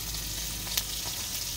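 Steady, hissing sizzle of okra, eggplant, squash and long beans frying in a hot pan over a wood-fired stove, a continuous crackle with one brief sharper pop partway through.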